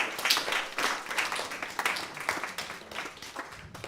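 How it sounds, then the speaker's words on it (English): Applause welcoming the board at a spiritual community gathering: moderate clapping from a room of people, fairly faint and uneven, lasting the full few seconds. "Would you welcome our board with applause?"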